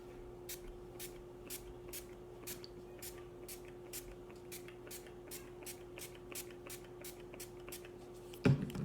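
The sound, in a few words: spraying Master Fix makeup setting spray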